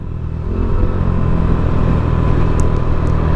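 A Yamaha NMAX V2 scooter fitted with an RS8 DC8 exhaust pipe revs steadily up close, its loud, continuous engine drone holding a deep rumble throughout without any backfire pops.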